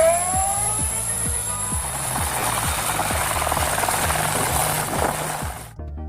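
A helicopter roars loudly nearby, its rotor chopping in a fast regular thump beneath a high engine whine, cutting off abruptly at the end.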